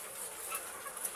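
Chickens on a farm cluck and murmur softly in a continuous low chatter, faint and somewhat distant, with no one talking.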